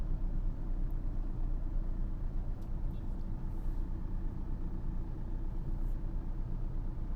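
Manual car in second gear creeping through slow Chennai traffic, a steady low engine and road rumble heard from inside the cabin, with faint surrounding traffic noise.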